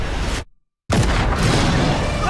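A loud, sharp gunshot breaks in after a moment of dead silence, followed by a sustained noisy boom.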